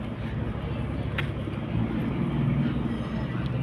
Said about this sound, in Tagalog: Nag-roving na yung helicopter.